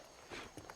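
A horse's hooves clip-clop in the Red Dead Redemption video game, a few soft, faint hoofbeats at a walking pace, heard at a distance against a low background.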